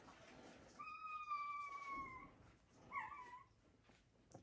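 A newborn American Bully puppy lets out thin, high whimpers: one longer drawn-out cry followed by a shorter one, faint over a low background murmur.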